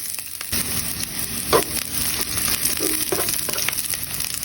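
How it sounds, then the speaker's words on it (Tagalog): Garlic and onion sauté in a hot pan, a steady dense sizzle with occasional stirring scrapes and clinks, close and continuous with no talking. "ilalagay na po natin ang ating bawang. At sunod na natin ang ating sibuyas."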